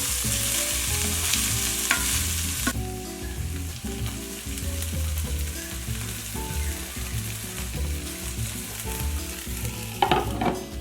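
Firm tofu sizzles and is stirred in a pan for a vegan Brazilian dish, a steady frying hiss running the whole time beneath prominent background music.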